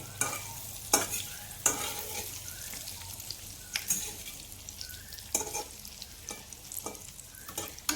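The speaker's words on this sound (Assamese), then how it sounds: "তাৰপিছত এতিয়া মই অলপ ভাজিছোঁ" Vegetables and potatoes fry with a constant hiss in a pan, broken by sharp scrapes and knocks of a spatula stirring them at irregular intervals.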